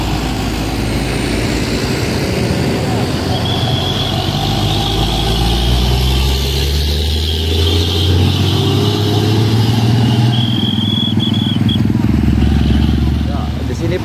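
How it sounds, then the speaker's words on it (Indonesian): Heavy trucks and other traffic roll along a congested road in the town of Tanjat, a continuous low engine rumble and road roar that stays loud and steady throughout, with someone talking over it. "masih ramainya truk lalu lalang ya"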